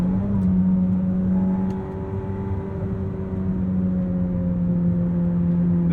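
Ferrari SF90 Spider hybrid V8 pulling hard under acceleration, a steady loud engine drone with rising harmonics held in gear, constant cabin-level intensity and no speech.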